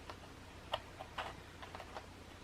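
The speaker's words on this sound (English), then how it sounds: "I'm going to try and trim off what I can with these scissors." Scissors trimming paper for a scrapbook project, a few soft, irregular snips and clicks, close and quiet with no talk.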